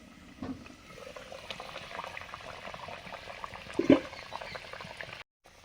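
Green plantain boiling with salt and turmeric in a pot gives a continuous soft bubbling with scattered pops and one louder burble near the end, fairly quiet and close, with no voices.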